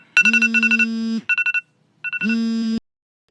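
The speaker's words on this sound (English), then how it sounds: "Okay, so that was my alarm going off." A phone alarm rings nearby with a loud synthetic ringtone of quick repeated beeps and held tones in three bursts separated by short gaps, then silence.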